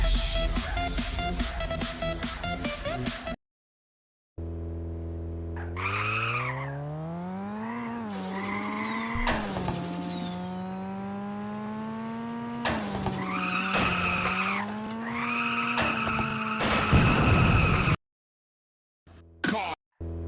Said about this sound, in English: In a car crash.